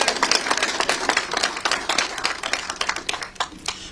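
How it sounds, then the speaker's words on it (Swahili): An audience claps for a county governor at a Kenyan COVID-19 briefing, a dense, fairly loud round of applause lasting several seconds before thinning out toward the end. "Mukimpigia makofi ni sawa."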